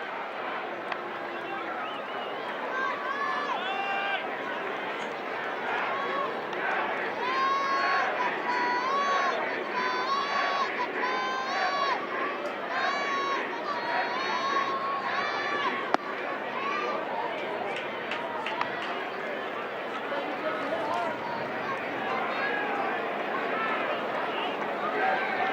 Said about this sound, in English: Some MVP chants scattered throughout the crowd here at the Big A.